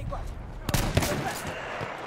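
A shotgun firing slugs in the video game Battlefield 1: two sharp, loud shots less than half a second apart over ambient battle noise, with faint voices in the background.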